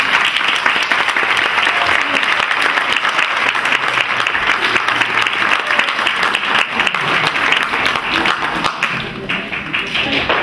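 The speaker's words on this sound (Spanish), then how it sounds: "¿Le damos un aplauso, por favor?" A hall audience at a diploma ceremony for a women's association breaks into steady, dense applause that holds loud and even for about ten seconds, with a few voices faintly mixed in.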